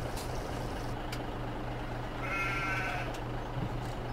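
Sheep bleating in the Farming Simulator 17 video game, a few steady bleats held over a constant low engine hum from a truck and trailer in a farm setting.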